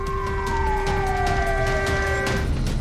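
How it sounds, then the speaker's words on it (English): A loud wailing civil defense siren with a slowly falling pitch, sustained over constant background rumble, with no talking. "civil defense sirens went off in China"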